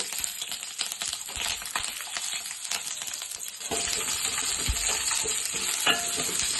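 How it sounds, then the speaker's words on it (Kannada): Ten to twelve green chillies frying in a little oil in a pan, a soft steady sizzle with light scraping and clinking of a utensil, growing slightly fuller midway, no voices. "10 ರಿಂದ 12 ಹಸಿಮೆಣಸಿನಕಾಯಿ ಫ್ರೈ ಮಾಡ್ಕೊಳ್ಳೋಣ"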